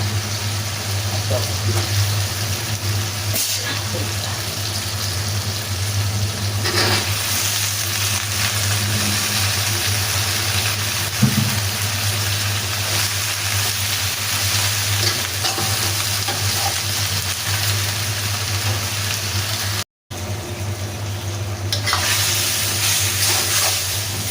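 Food sautés in a frying pan with a constant close sizzle and intermittent stirring scrapes over a low steady hum, continuing without a break for a long stretch.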